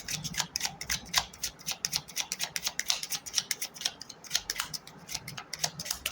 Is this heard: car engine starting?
no